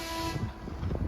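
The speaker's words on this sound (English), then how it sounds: "when you hear 5 horns, it's 5-minute countdown for a train ride" A train horn at the Texas Transportation Museum in San Antonio gives one short blast, heard at a moderate distance with no talking.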